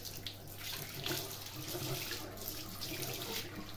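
Tap water runs steadily over the dirt basket of an Ultenic AC1 Elite vacuum as it is rinsed in a sink, a continuous, close hiss of flowing water with no talk.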